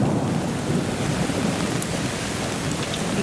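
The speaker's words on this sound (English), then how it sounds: "under trees, waiting for the rain to stop" Heavy rain falls steadily in Saddler's Woods, a dense, continuous hiss of drops on leaves and ground, close and unbroken, with no voices.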